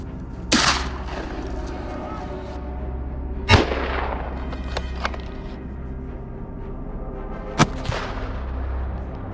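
Three hunters' gunshots aimed at wild boars crack out one at a time, several seconds apart, each loud and sharp with a trailing echo, over a steady low droning background.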